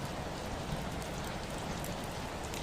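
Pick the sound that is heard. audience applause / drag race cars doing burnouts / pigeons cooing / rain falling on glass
rain falling on glass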